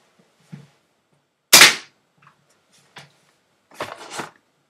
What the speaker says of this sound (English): I'm just gonna shoot the card now.